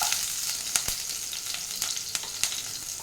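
Chillies and garlic sizzle in hot oil in a pan, a steady close hiss with scattered sharp crackles and pops and light stirring scrapes throughout.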